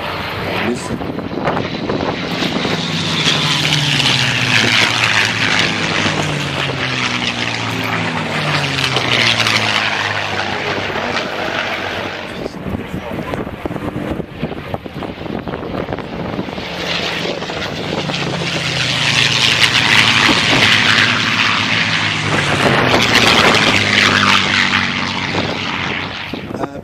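P-51 Mustang propeller fighters fly past at the Flying Legends airshow at Duxford, their piston engines swelling into two loud passes with a rising and falling drone, the second louder, a gap of quieter noise between them.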